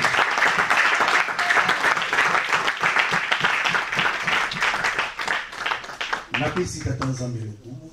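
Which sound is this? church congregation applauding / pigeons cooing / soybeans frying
church congregation applauding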